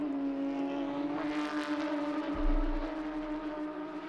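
Porsche Carrera Cup race cars at Spa-Francorchamps, a steady engine drone with strong harmonic bands held throughout, swelling slightly as a car passes close near the middle, heard from trackside.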